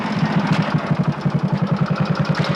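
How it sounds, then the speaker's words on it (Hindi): A new motorcycle engine runs at a steady, low idle, giving a loud, rhythmic thumping pulse that repeats evenly several times a second, close by and with no talking. "नई मोटरसाइकिल ली है"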